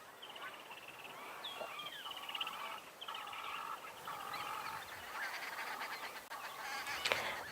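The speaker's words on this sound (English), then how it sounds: "There are so many birds flying around and making a noise that these mongooses are highly alert." Many wild birds call together in the African bush at sunset, including a grey-headed bushshrike and ground birds, with overlapping honking and chattering calls running steadily throughout.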